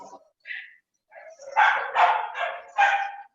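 Several dogs bark nearby in short, loud, overlapping bursts, with a few high yips and brief gaps between volleys.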